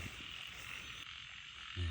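Frogs, including small burrowing toads found on a road, croak on a rainy night outdoors: a dense, steady chorus of calls fills the background, with one louder, closer croak near the end.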